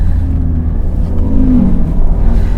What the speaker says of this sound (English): I don't know if that engine noise is coming through, but it does sound pretty good.